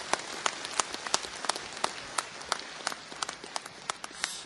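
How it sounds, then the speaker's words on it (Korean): Audience applause at a book launch, dense scattered hand claps at moderate distance filling the whole stretch, fairly even and unbroken. "감사의 박수 부탁드리겠습니다."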